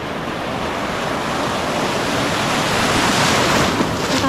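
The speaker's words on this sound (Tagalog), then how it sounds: "Natatalsikan ako ng alon." Ocean waves splash along a shallow shoreline, a loud continuous wash of surf with a roaring, wind-buffeted texture and no voices.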